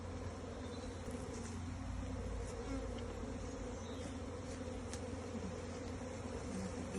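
A dense honeybee swarm pours out of a hive entrance, producing a loud, steady, continuous buzzing drone that holds throughout without pause.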